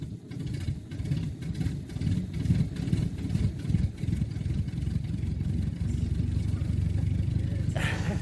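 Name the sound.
race car engines starting and idling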